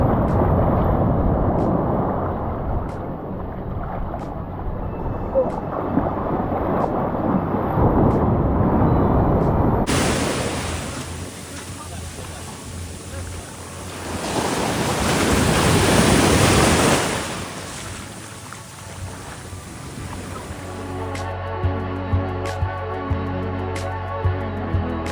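Ocean surf during a deep-water lifeguard rescue drill: waves break and roll continuously with heavy wind buffeting the microphone, swelling to a louder surge midway before easing back.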